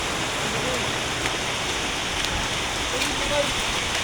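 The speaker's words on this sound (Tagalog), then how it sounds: "ang ulan. Umuulan." Steady, dense rain hisses loudly and evenly throughout, with no pauses.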